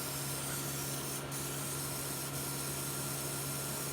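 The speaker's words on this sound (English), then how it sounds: "And I spray it for about 15 seconds." An aerosol disinfectant can hisses steadily into a car's air-conditioning intake with a continuous spray under a running fan hum, faint and close.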